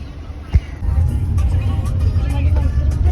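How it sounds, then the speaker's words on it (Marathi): Road traffic heard from inside a moving vehicle on a family trip, a steady low engine and tyre rumble with a brief thump near the start and vehicles passing nearby. "आणि पहिलेच ट्रॅफिक लागलेली आहे."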